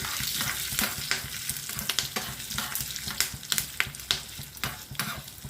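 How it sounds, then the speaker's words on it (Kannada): Curry leaves, cumin seeds and chillies fry in a hot tempering for palak dal, giving a close, crackling sizzle with repeated sharp spits and pops throughout. "ಕರಿಬೇವು, ಜೀರಿಗೆ ಹಾಕ್ಕೊತಾ ಇದ್ದೀನಿ. ಚೆನ್ನಾಗಿ ಫ್ರೈ ಮಾಡ್ಕೊಳ್ಳಿ."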